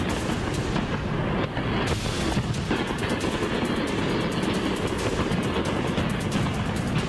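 Firecrackers burst with sharp bangs and cracks repeatedly over a dense, roaring crowd din during street clashes, loud and chaotic throughout with no pauses.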